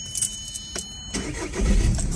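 An Audi car engine with an intake manifold flap actuator fault code is cranked and fires up, a brief starter whir followed by a low rumble building toward idle, close by, with a faint metallic jingle like keys early on.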